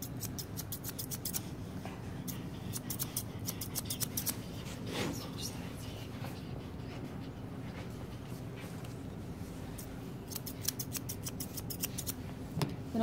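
Scissors snip through an Airedale's leg hair in quick repeated bursts of crisp close clicks, with quieter stretches between the runs of cutting.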